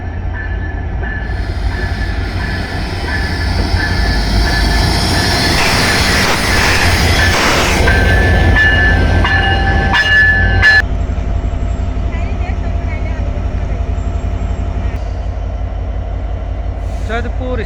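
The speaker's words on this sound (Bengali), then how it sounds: "স্টেশনে এসে দাঁড়ালো" A passenger train from Dhaka pulls into Joydebpur railway station, its loud rumble and rolling wheels joined by a sustained screech of squealing brakes as it slows, then a steady idling hum once it has stopped.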